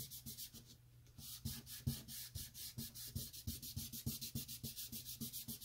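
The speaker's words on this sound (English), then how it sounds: "this is a kneadable eraser" A kneadable eraser is rubbed back and forth on paper in quick, regular strokes, a close, soft scratchy rasp repeating several times a second.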